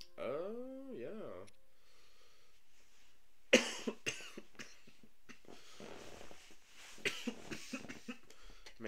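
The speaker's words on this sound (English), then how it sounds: "Good, hopefully this cough will stop." A person coughs repeatedly in a quiet room, a series of sharp, close coughs and throat sounds after a brief stretch of voice and silence.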